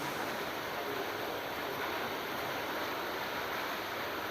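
Heavy rain pours outside, a dense, steady hiss with no breaks, close and even throughout, with no voices.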